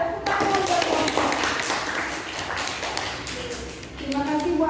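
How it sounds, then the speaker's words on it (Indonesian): Classroom applause for a group of students, a burst of many hands clapping and tapping in a room, with voices talking over it. "Tepuk tangan buat kelompok."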